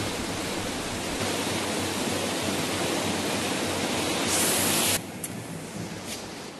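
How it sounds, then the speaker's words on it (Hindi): The Bhagirathi river rushes past a ghat as a loud, continuous roar of flowing water. The wash is dense and constant and briefly swells near the end. "और इसके पीछे के शोर को भी सुन सकते हैं जो पानी के गुजरने का शोर है।"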